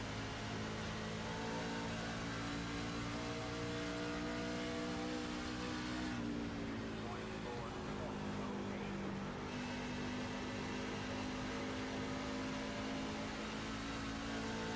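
Loud, continuous roar of racing truck engines in a racing sim video game, steady harmonic drone with a pitch dip midway as engines shift, filling the whole clip without talk.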